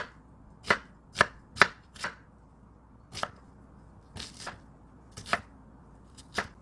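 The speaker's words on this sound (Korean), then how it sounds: "양파 하나를 잘게 썰어" A knife chops an onion finely on a cutting board in about a dozen sharp, close knocks. The knocks come in small uneven bursts with quiet pauses between them, and no one talks.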